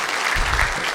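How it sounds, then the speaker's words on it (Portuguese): Applause from the audience at a government IPv6 forum, a steady burst of clapping close and loud for about a second. "por favor, uma salva de palmas"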